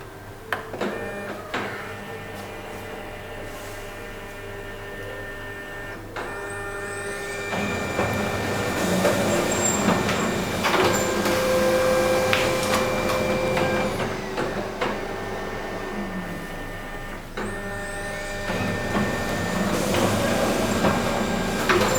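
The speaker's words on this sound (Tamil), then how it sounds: "ஸோ இப்போது புக் செப்பரேஷனுடைய நமக்கு வந்து பிரிண்ட் அவுட் வந்துருச்சு." A Konica Minolta 205i copier runs a book copy job, whirring and humming with mechanical clunks, sliding scanner sweeps and a tonal motor whine, steady and close without voices.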